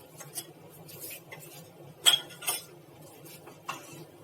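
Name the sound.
stirring mixed lentil dal in a pot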